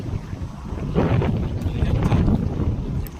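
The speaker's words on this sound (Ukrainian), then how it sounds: "вітер дме" Wind blows steadily outdoors, a low rumbling gust buffeting the microphone, with faint background noises and no clear talk.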